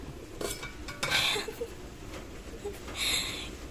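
Metal clatter and scraping of a wok-style kawali on a home stove, with a few sharp clinks and two brighter bursts of rattling, fairly close, over a low background hum.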